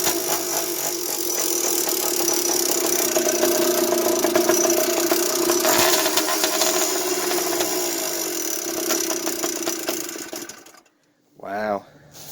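A two-stroke motorized bicycle engine burning E85 drones steadily at close range with a buzzy, rattling tone for about ten seconds, then cuts off abruptly, followed by a brief burst of sound.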